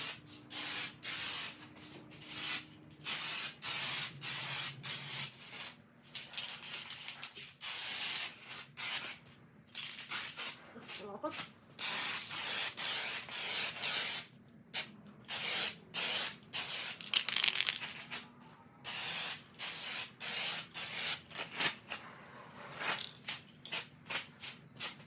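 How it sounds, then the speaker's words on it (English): Repeated bursts of an aerosol can spraying a third coat of Rustoleum Turbo paint onto a car bumper, long hissing passes broken by short pauses, close and fairly loud with no talking. "now we can spray the third coat"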